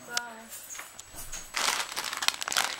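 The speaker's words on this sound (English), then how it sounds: "So we've got this shredded tissue paper from Card Factory." Shredded tissue paper from Card Factory is crinkled and rustled close by, a dry crackling burst that grows busier in the second half after a quiet, tonal start.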